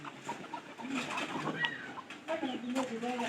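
Pet pigeons in a village coop cooing softly, several overlapping low coos with faint rustling and distant background noise, no talking.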